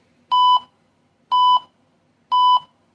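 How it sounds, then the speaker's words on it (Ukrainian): A radiation dosimeter's alarm sounds three short, identical electronic beeps, evenly spaced about a second apart, loud and close in an otherwise quiet setting. "Сигналізація включилась і пищить."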